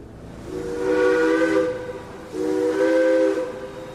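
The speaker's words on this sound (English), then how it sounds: "mostly boarding and disembarking steam locomotives that puffed and shrieked their way west" Two long blasts of a steam locomotive whistle, each a harmonic shriek about a second long with a brief pause between them, backed by a steady steam hiss; no speech.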